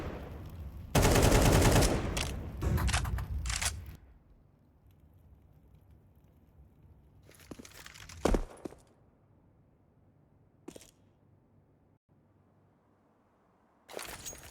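Pistol gunfire in Counter-Strike 2 during a pro match on the Vertigo map: a loud cluster of rapid shots early, then scattered single cracks and short bursts separated by quieter stretches.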